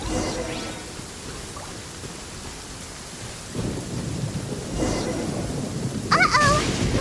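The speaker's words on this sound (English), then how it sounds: "Uh-oh! Lightning storm!" A video game thunderstorm with steady heavy rain hiss and low rumbling thunder that swells midway, and brief higher tonal game effects near the end, with no one talking.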